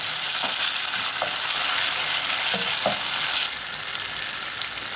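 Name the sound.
jollof rice base cooking on the fire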